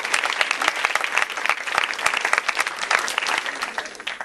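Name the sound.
audience applause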